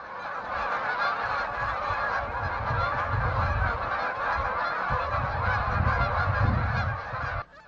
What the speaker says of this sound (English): Although the Canada geese far outnumber all the other waterfowl